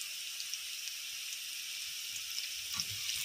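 Squid adobo ingredients sautéing in a pan give off a steady close sizzle with light crackling pops, continuous and even throughout with no voices.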